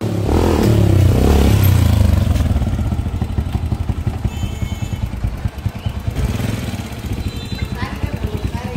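A motorcycle engine runs and revs loudly at a service shop, strongest in the first two seconds, then settles into a steady idle with clattering mechanical noise underneath.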